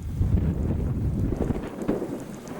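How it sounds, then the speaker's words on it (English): Strong wind during a March blizzard in Pittsford, New York, low rumbling gusts buffeting the microphone continuously, fairly loud with no voices. "Still kind of windy."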